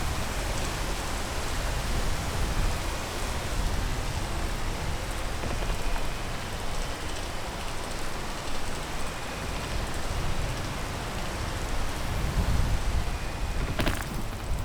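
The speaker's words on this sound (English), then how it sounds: "And now we have to wait for the rain." Steady rain falls in the video game Peak, a dense continuous patter of drops with occasional louder spatters, heard alone without any talking.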